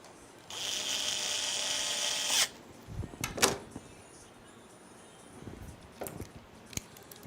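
A power screwdriver drives PSU screws during a PC build, one steady whirring burst lasting about two seconds, followed by scattered faint clicks and handling taps at close range.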